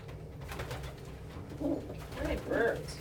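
Pet pigeons or doves coo softly at close range, a few low rolling coos rising near the end over a quiet room hum.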